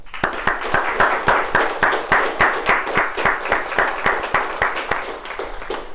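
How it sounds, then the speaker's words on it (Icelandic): At a Reykjavík children's book award ceremony, an audience applauds a winner with a dense, steady round of clapping in which some sharp individual claps stand out, sustained for several seconds at moderate loudness. "Ég gefa Þórarni aftur gott klapp"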